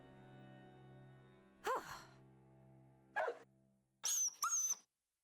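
A dog in the horror visual novel game Krampus is Coming to Town gives a few sharp barks and yelps, the last a quick double, over a low steady droning background.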